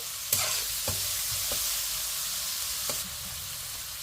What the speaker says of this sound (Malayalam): ഒന്ന് വഴറ്റാം സവാളയൊക്കെ ഒന്ന് വഴഞ്ഞിട്ടുണ്ട്